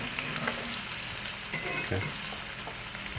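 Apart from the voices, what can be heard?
rib eye steak and garlic searing in iron pan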